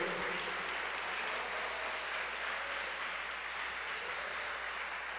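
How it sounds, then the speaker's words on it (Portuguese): A church congregation claps during a spiritual warfare seminar service, a steady, even wash of applause holding at moderate level throughout. "Pode aplaudir ao Senhor."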